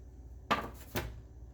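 Batter for keto brownies goes into a baking pan with two quick, close clatters of a utensil against the pan.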